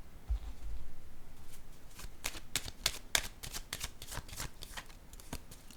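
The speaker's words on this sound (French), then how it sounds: "Je vais déposer une carte ici sur l'ombre." A tarot card is laid down during a reading, heard as a quiet series of crisp card slaps and paper flicks at close range, with no talking.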